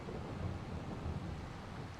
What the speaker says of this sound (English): that thunder sounds so good